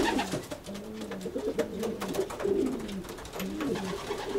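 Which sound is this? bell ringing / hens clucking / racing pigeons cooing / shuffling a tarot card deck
racing pigeons cooing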